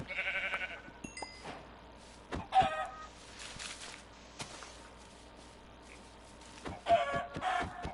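Chickens cluck and squawk in a survival video game, coming in short bursts amid clicks and other game sounds, with quiet gaps between the calls.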